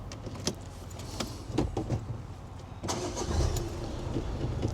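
A Peugeot Partner diesel van starts up from inside the cab: a few clicks and clunks, then the engine cranks and catches into a steady low idle, with no talking.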